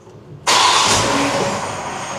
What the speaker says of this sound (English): So let me start the car.